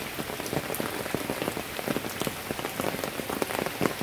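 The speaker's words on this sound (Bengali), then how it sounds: "দেখো বন্ধুরা, মুষলধারায় বৃষ্টি হয়ে যাচ্ছে।" Heavy torrential rain pours steadily onto a courtyard and surrounding surfaces, a dense, continuous wash of drumming drops with sharper nearby splats scattered throughout, loud and close with no voices.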